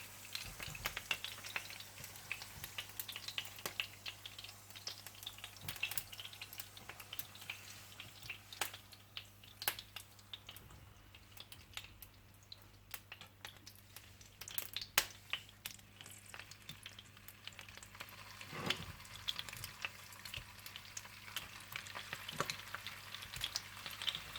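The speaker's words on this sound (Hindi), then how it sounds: "बाकी सारे चिकन सीख कबाब भी इसी तरह से फ्राई कर लीजिएगा" Chicken seekh kababs fry in a pan, a faint, steady sizzle with soft crackles and occasional light clatters throughout.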